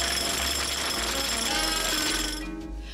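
A jackhammer pounds in a 1993 Pink Panther cartoon, a loud, dense, continuous mechanical rattle that fills the whole moment before easing slightly at the end.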